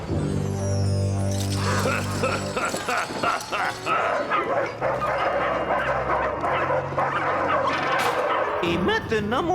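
Cartoon dog barking in a French animated episode, repeated yips and barks over busy music and effects, loud and close throughout.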